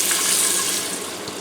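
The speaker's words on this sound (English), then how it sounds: "I'm going to go ahead and add in my 4 cups of beef stock" Beef stock, four cups' worth, pours into an Instant Pot set to sauté high, a steady liquid splashing and gurgling that runs continuously and fades slightly toward the end.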